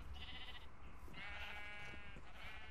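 Sheep in Minecraft with an epic fantasy texture pack, a couple of soft, distant bleats over a low background hum, quiet and alone without talk.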